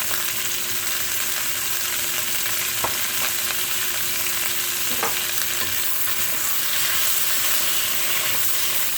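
Cabbage tossed in butter in a pan for corned beef and cabbage, giving a steady broadband sizzle with a few soft stirring knocks, close and continuous with no talking.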